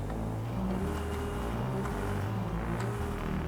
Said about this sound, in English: the straight exhaust, sounds good.